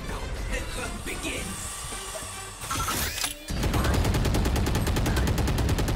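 Gunfire rattles in the video game Valorant. Scattered shots and effects give way to a loud, rapid burst of automatic fire that runs to the end, while a player talks over it.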